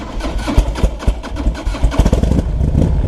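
A 2003 Harley-Davidson Electra Glide motorcycle with about 11,000 miles runs close by, its engine rumbling with uneven, lumpy pulses that swell and settle.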